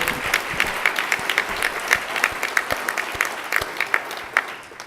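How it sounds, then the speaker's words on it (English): Audience applause at a university alumni excellence award ceremony: a moderate crowd claps steadily with distinct individual claps, near and fairly loud, tapering slightly at the end, with no talk over it. "that's worth an applause, I think."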